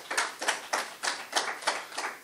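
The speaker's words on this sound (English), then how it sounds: "Give them a round of applause." Clapping at a prime minister's press conference, a sparse slow rhythm of distinct claps repeating about every third of a second, close and moderately loud, with no talk.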